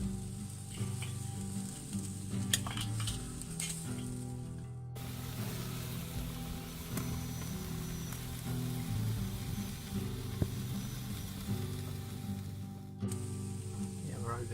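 Meat sizzles steadily in a hot pan after being turned, a constant crackling hiss with a few louder pops, while someone talks over it.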